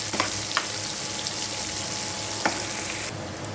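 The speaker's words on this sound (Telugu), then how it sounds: "చూసారు కదా, ఈ విధంగా బ్రౌనిష్గా కొంచెం ఇంకా వేగాలి. సో ఇట్లా వేయించుకుంటూ ఉండాలి." Ingredients for pappu charu fry in a pan, browning with a constant close hiss and sizzle, punctuated by a few faint stirring taps.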